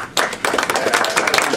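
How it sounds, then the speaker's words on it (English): A short burst of audience applause for a guest speaker at an evening talk, close, lively clapping that begins abruptly and continues at full strength. "Let us give a rousing round of applause tonight for our speaker."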